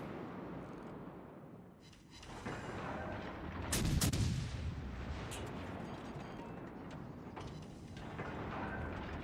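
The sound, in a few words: naval gunfire in World of Warships Legends video game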